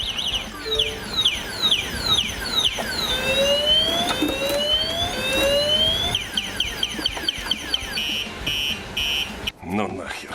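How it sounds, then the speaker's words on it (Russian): An electric scooter's alarm blares loudly and close by, cycling through rising and falling electronic siren sweeps and warbles, with brief voices and handling noises toward the end. "Сигнализация-то продолжает орать."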